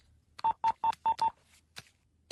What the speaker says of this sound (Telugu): వాళ్ళకి ఫోన్ చేసి ఇక్కడికి రమ్మను